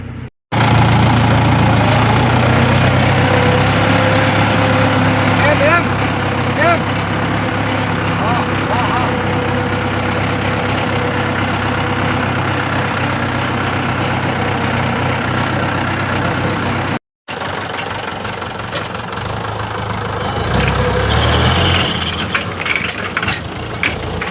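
A tractor engine runs at a steady, loud idle with a dense low rumble and mechanical rattle throughout, briefly cutting out once before resuming slightly rougher.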